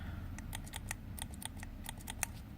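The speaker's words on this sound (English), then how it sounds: "a trigger on the back, and it's very, very clicky actually" Trigger button on the back of a Nolo VR controller clicking repeatedly, a quick run of crisp close-up clicks in irregular rhythm with no talking.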